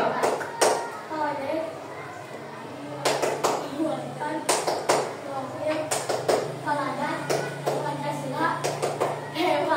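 A group, children among them, claps the Tepuk P5 routine in bursts of sharp rhythmic claps separated by pauses, while a voice and kids' chatter carry on between and beneath the clapping.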